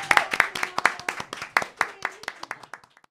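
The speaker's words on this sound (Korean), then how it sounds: "박수로." An audience claps in a burst of sharp, uneven hand claps with no talk, loud at first and thinning toward the end over about three seconds.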